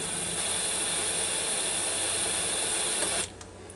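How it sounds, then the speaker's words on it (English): Steam hissing from a Ninja Foodi Deluxe pressure cooker, a steady, fairly loud broadband hiss that holds for about three seconds and then cuts off abruptly, leaving only a faint background. "I can see a little steam coming out of there."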